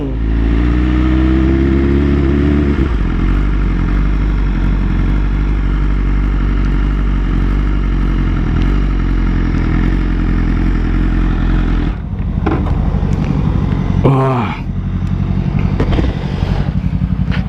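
Loud, continuous engine roar from 2020 Honda CBR1000RR-R SP and BMW S1000RR superbikes on a ride, one modified and one stock, holding a steady drone with a brief gear-shift dip and a revving swell near the end.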